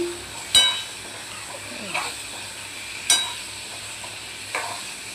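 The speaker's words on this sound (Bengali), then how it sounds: "মশলাপাতি দিয়ে আলু দিয়ে টমেটো দিয়ে সব কষানো হচ্ছে" Potatoes and tomatoes with spices sauté in a pan, a faint low sizzle under a few sharp clinks of a spoon scraping the pan at irregular intervals, with soft background noise and no clear speech.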